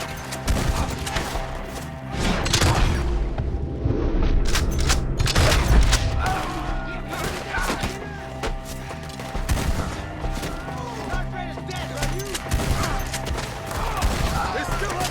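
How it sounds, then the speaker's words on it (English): Repeated gunfire from a shootout in Red Dead Redemption 2, rapid overlapping shots and booms in irregular bursts throughout, loud and close, with shouted voices mixed in. "Shoot the ones up there first!"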